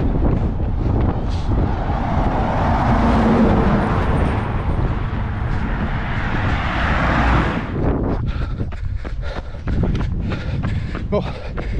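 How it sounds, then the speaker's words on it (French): Strong wind buffeting the microphone on a roadside, with road traffic including a large truck rushing past. It builds to a loud roar before easing into gustier, choppier noise near the end. "entre le vent et le passage des véhicules, on n'entend plus rien"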